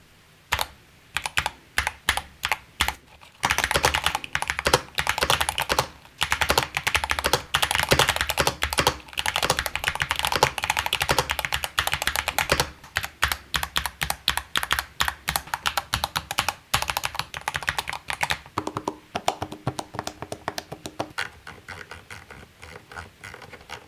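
Rapid typing on a Corsair Galleon 100 SD gaming keyboard with six layers of sound dampening. Close, muted keystrokes come in dense bursts broken by short pauses, with no voice over them.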